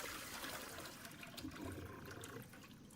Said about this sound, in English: That's a pretty messy flush.